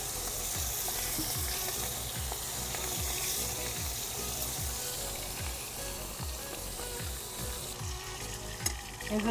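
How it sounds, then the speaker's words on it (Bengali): Pieces of katla fish frying in hot oil for a Bengali mustard fish curry, a loud continuous close sizzle and crackle with no voices. "বাকি যে কটা আছে ও কটাও আমি এভাবে ভেজে নেব।"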